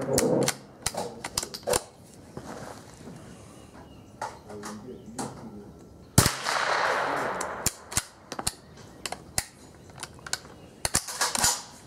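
A Keystone Sporting Arms Model 722 .22LR rifle fires several rounds outdoors, producing sharp, close cracks spaced irregularly among lighter mechanical clicks, with one especially loud report midway and talking in between.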